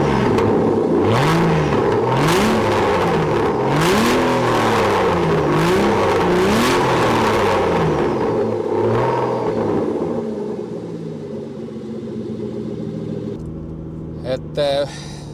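An Aston Martin DB9 engine under way, with a sweeping, rising and falling engine note as the car accelerates and shifts, close and prominent, then settling to a steadier cruise with a couple of short clicks near the end.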